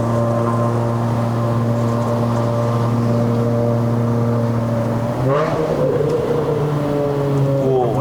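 A Proton Inspira 2.0 with a racing clutch and five-speed manual drives uphill on a mountain road. Heard from inside the cabin, the engine holds a steady loud drone, then rises and falls in pitch as it is revved and eased off.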